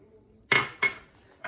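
A utensil knocks against a bowl while brown sugar is mixed into butter, giving three sharp, close clinks spaced a little apart with quiet between them.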